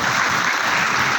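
Audience applause fills a hall at a community honours ceremony, a dense steady clatter of many hands that stays loud throughout without voices.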